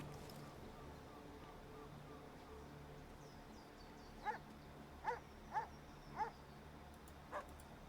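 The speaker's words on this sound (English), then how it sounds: "The dog's being so mean over there." A small fire pup dog creature in the Magic: The Gathering Arena card game barks in a handful of short, spaced yelps over quiet background game ambience.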